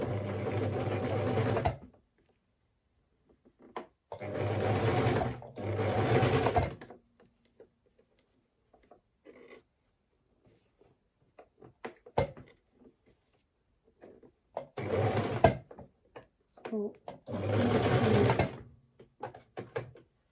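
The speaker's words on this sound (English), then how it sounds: "So I'm starting my sewing in the middle. Now I'm sewing it." Sewing machine stitching a fabric frill for a blouse, sleeve or wrap skirt, running in four loud bursts of rapid mechanical stitching separated by pauses filled with faint handling clicks.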